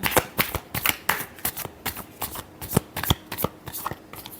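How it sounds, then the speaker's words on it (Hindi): Tarot cards being shuffled by hand in a steady run of crisp riffling bursts, close and fairly loud, with no voices over the shuffling. "last shuffle"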